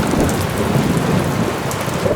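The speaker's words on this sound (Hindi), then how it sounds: "अरे देखो, बारिश शुरू हो गई" Heavy rain pours down steadily with a deep rumble of thunder underneath, loud and close and continuous throughout, with no voices.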